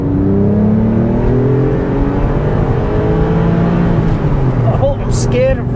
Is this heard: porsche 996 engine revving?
yes